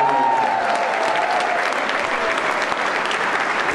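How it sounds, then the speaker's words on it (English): An audience at a celebrity chef charity challenge applauds loudly and steadily, a dense, continuous clapping from a crowd that fills the whole moment. "So I'd like you to give them a big round of applause."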